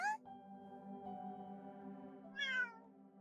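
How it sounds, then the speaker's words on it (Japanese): A cat meows twice, once at the start and again near the end, over a steady, sustained musical background. "猫もメリークリスマス。"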